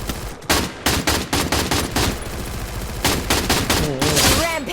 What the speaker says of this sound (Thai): ได้ยินเสียงปืนมาจากตรงนี้นั่นไง